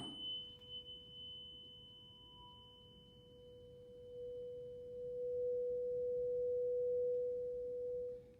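A steady pure sine tone at 493.9 hertz, the note B, sounds in a speed of sound lab, holding continuously and getting louder in the second half as the listening spot shifts, alone with no talk.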